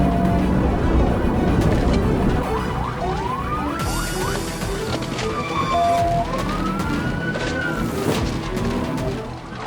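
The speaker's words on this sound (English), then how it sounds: "When the sirens lit up, the Charger took off." A police car siren wails and yelps during a highway pursuit of a fleeing Dodge Charger, loud and close over roaring engine and road noise, with a brief crash-like clatter midway.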